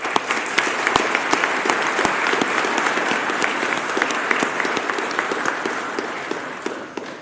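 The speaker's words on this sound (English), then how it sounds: "Let's give them a round of applause." Audience applause at a physical therapy class white coat ceremony: sustained, dense clapping from a large crowd, loud and even for several seconds before tapering slightly at the end, with no voices over it.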